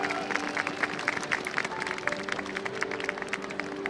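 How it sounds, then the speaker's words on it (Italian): Crowd in Piazza San Marco applauding the Marie at the Venice Carnival 2023, a steady wash of many hands clapping outdoors with scattered sharper claps throughout, some background voices and a faint sustained tone underneath. "Facciamo un applauso alle Marie tutte insieme"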